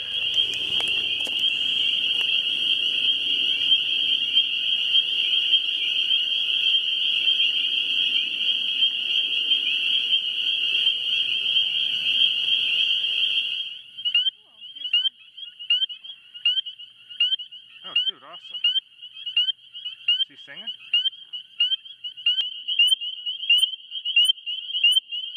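Spring peeper frogs calling in a chorus, a dense, loud, continuous high peeping that later thins into distinct repeated individual peeps with gaps between them.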